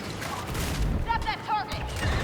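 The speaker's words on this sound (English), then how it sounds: "Who in the fuck is shooting me?" Blaster fire crackles in a Star Wars Battlefront 2 match, a few quick synthetic shots and bursts over a rumbling game soundscape, with voices in the mix.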